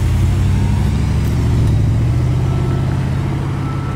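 A Porsche sports car engine roars steadily close by, a loud continuous rumble with a slight swell as the car drives past.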